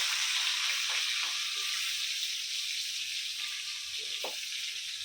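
Surmai fish frying in a pan with spiced masala, a steady close sizzle of hot oil that runs throughout, with a couple of faint clinks from the pan.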